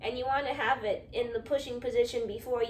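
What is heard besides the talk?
No distinct noise like a dog, phone or traffic.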